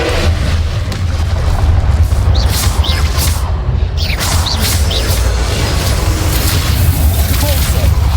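A Confringo spell explosion in Hogwarts Legacy, a dense loud blast of booming, crackling noise that fills the whole stretch, layered with game effects and steady low rumble.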